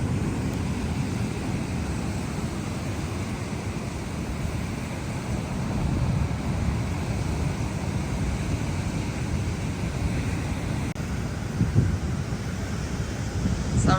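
Ocean surf meeting the rocks where the sea runs into Lake Cathie, heard as a continuous low roar of waves mixed with gusty wind buffeting the microphone, with a brief louder wash near the end.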